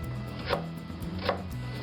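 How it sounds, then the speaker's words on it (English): A knife slices carrots into rounds on a cutting board, making two crisp, evenly spaced chops close by against a low background hum. "I'm going to slice my carrots."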